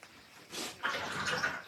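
A watercolor paintbrush swishes and sloshes briefly in a water container, a short close splashy rinse that rises and fades within two seconds.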